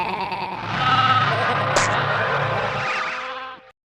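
A sheep lets out one long, loud, wavering bleat close by, lasting about three seconds before cutting off.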